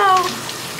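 Tap water running cold for a hot water challenge, a steady hiss of flowing water close by, with a brief tonal whine at the start.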